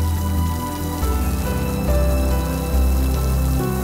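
Steady rain falling on surfaces, loud and continuous, with dense patter and a low rumbling undertone throughout and no voices.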